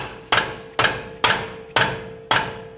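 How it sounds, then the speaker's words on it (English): A rubber mallet taps a rear control arm bushing into place on a 2009-2015 Honda Pilot: five evenly spaced, solid knocks, close and fairly loud, each with a short ringing decay. "A couple love taps with a rubber mallet."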